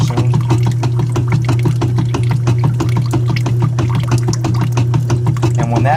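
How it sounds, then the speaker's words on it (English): An electric pump runs steadily with a constant low mechanical hum and rapid rhythmic pulsing as it draws water out from below, the motor loud and close throughout with liquid churning mixed into the drone. "Plug it in, let it pump for a minute."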